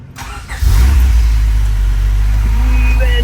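A car engine cranks briefly and catches, then settles into a loud, steady running rumble close by, with a faint whine rising near the end.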